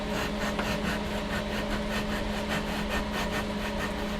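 Steady, continuous abrasive rubbing of a radius sanding bar on an Ibanez guitar's wooden fretboard, repeated back-and-forth strokes at a close, even level with no voices.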